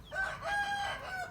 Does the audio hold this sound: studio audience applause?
no